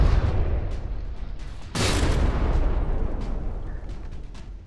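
Shells fired from a tri-barrel gun in the naval combat game From the Depths: a loud, dense rumble of artillery with one sharp blast burst near the middle, then continued heavy booming with no talk.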